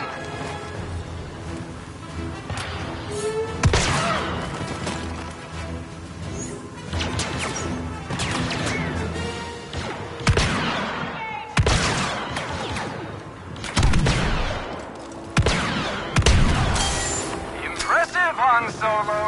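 Stormtroopers fire blasters in Star Wars Battlefront 2, a fast battle with irregular bursts of shots and crashing impacts. Voices occasionally cut through the steady in-game sound.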